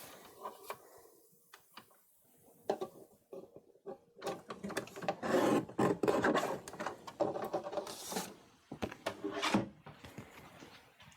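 Paper is trimmed during card making with a sliding trimmer blade, giving close scraping and rubbing strokes, a denser grinding stretch in the middle, then several short clicks and scrapes.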